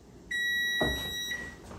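An oven timer in a home kitchen gives a steady electronic beep tone lasting about a second, clear and fairly close, with a brief knock of kitchen noise partway through and no talking.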